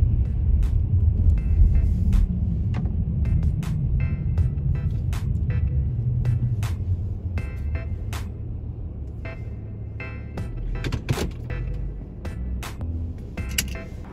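A Honda car driving slowly into a parking area in Marcy, NY, heard from inside as a steady low engine and road rumble that eases off as it stops, with scattered faint clicks and no talking.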